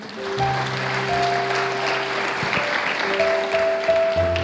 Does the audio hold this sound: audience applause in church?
yes